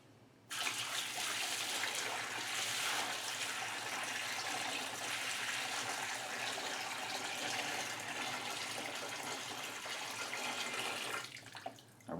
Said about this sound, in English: I'm going to pour some more water in here.